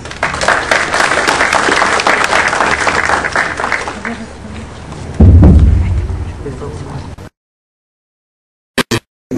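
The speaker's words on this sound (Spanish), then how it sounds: "le pedimos un fuerte aplauso" A large audience applauds loudly after a speaker at a legal training event on military and police law; dense sustained clapping fills several seconds, swells briefly, then cuts off into silence.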